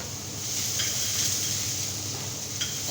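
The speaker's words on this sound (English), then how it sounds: "So we start cooking down our onions." Red onions cook down in a pot for red onion marmalade, giving a steady, moderate sizzle and hiss with a faint clink or two.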